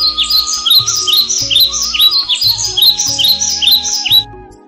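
Birds chirp at dawn in quick, bright, repeated bursts of high tweets that fill the foreground, loud and close, over a soft sustained musical tone beneath.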